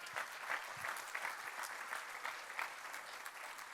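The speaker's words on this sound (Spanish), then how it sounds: "Dale un aplauso." Congregation applause fills a church service, a steady wash of many hands clapping at moderate distance that holds evenly throughout without pause.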